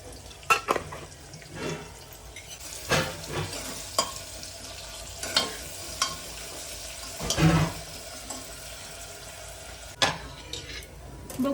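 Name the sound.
chopped onion sautéing in a pan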